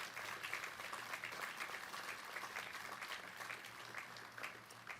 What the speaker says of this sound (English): if we could give a round of applause to every man and woman who has worn the cloth of this great country